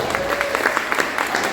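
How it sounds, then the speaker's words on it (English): Audience applause at a Denver keynote event, a short burst of many hands clapping with a faint voice briefly underneath. "Let's give a round of applause for Visit Denver for bringing you here."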